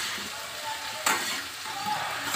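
Mango pickle is stirred in a hot pan, a continuous close sizzle with soft scraping and one brief louder scrape partway through.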